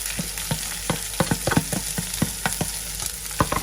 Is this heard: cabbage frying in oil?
yes